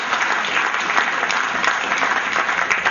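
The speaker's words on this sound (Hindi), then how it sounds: "आपकी जोरदार तालियां।" Loud, dense audience applause filling a hall during an award ceremony where a memorial shield is presented, steady and sustained with no break throughout.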